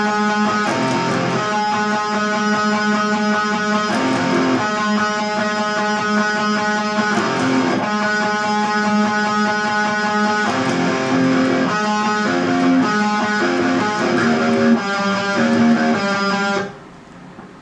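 Electric guitar plays the intro riff of a song in drop C tuning, a steady stream of ringing chords and picked notes with rhythmic accents, loud and close, then it stops abruptly near the end.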